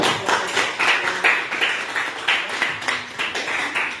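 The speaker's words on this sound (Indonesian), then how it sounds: "Kita berikan aplaus dulu untuk" Classroom audience clapping for a group's presentation, a steady run of close, fairly loud handclaps from a small group that carries on for several seconds without voices.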